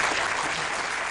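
An audience at a Turkish ceremony for a high-school Ottoman Turkish competition applauds in a brief, dense, even burst of clapping that fills the whole moment.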